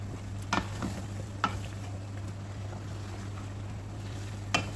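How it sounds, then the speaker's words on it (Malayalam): Cauliflower, potato, carrot, capsicum and cashews are stirred into masala in a pan, with a few faint scrapes and taps over a soft sizzle and a steady low hum, and no talking. "പച്ചക്കറി ആഡ് ചെയ്ത് ഇട്ട് കൊടുത്തിട്ട് നമുക്കിതൊന്ന് ഇളക്കി കൊടുക്കാം."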